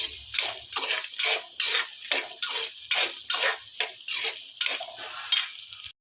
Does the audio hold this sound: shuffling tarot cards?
no